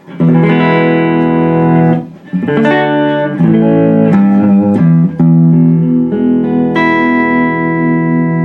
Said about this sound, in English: I'll just play some chords, no reverb, no nothing.